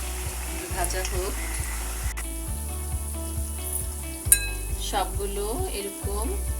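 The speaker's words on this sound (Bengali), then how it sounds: "এখন আমি কোপ্তাগুলো ভেজে নিব" Fish koftas made from foli (featherback) fish fry in hot oil with a steady crackling sizzle throughout, joined by occasional clinks of a utensil against the pan.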